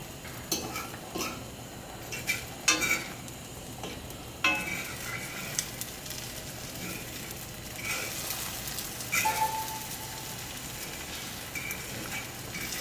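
Homemade breakfast potatoes sizzle steadily in a pan while being stirred and moved around, with intermittent scrapes and clinks of a utensil against the pan over a soft, continuous frying hiss.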